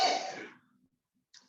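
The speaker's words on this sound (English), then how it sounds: "sneezing" One loud sneeze bursts out at the start of an indoor group conversation and fades within about half a second, followed by near silence and a faint short sound at the end.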